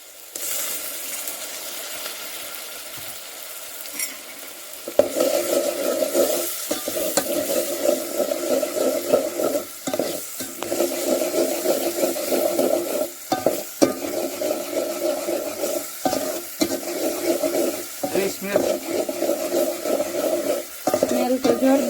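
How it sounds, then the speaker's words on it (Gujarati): Water is poured into frying biryani masala over an outdoor deshi chulha, setting off a sudden loud rush and bubbling sizzle after a quiet start, then steady spluttering with repeated stirring scrapes. "બધા મસાલા પછી સીધું પાણી જ નાખવું."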